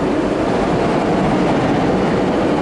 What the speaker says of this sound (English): There's two locos coming in the platform.